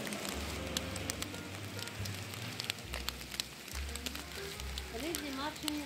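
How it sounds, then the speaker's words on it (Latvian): Rain falls steadily at the Alcantara river gorge in Sicily on an autumn day, a continuous hiss of drops with a low rumbling engine-like drone underneath and people talking over it. "diemžēl lietus."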